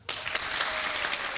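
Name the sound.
audience clapping three times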